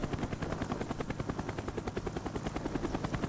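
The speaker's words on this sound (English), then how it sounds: "we have a fully working helicopter" Helicopter in a Call of Duty: Black Ops 1 mod, a loud, steady rotor thump with fast regular blade chops and turbine whine, heard close and alone with no talk.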